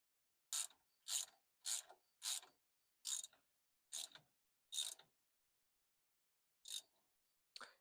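A ratchet clicks in short separate bursts while tightening the ground wire on a Ford Model A, with seven quick strokes in a steady rhythm, a pause, then two more, close and crisp in a quiet space.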